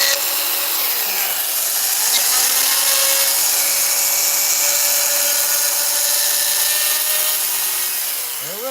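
A chainsaw carving a horse head from wood roars at high, steady throttle close by for most of the stretch, then the engine pitch drops away at the end.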